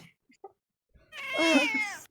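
A pet cat gives one drawn-out, loud meow close to the microphone after a few faint small noises in a quiet room.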